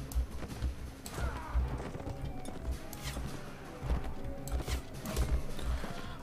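A brown unarmoured horse in Mount & Blade Warband clip-clops along in a steady, rhythmic gait, the hoofbeats close and clear with faint battle ambience behind.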